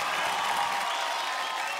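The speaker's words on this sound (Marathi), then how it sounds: "पुन्हा एकदा जोरदार टाळ्या होऊन जाऊ द्या ऐश्वर्या सीमा काळे हिच्यासाठी" A studio audience at a Marathi TV show claps in steady, dense applause for a couple of seconds, fairly distant and even, with no voices over it.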